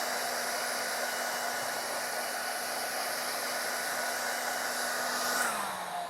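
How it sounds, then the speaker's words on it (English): A hair dryer blows with a steady, loud whooshing hum that runs unbroken, then its pitch drops slightly near the end. "Hairdryer."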